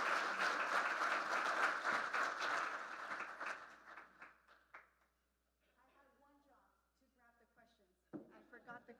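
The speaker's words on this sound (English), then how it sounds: "let's give our city manager a great round of applause" Audience applause for a city manager at a civic gathering, a dense burst of clapping that fades over about four seconds into someone speaking, with another voice joining near the end.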